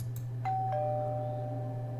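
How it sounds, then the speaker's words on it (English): An old doorbell in a large old hall rings twice, two bright tones struck about a quarter second apart that hang and slowly decay over a steady low hum, with no voices. "I pressed the doorbell."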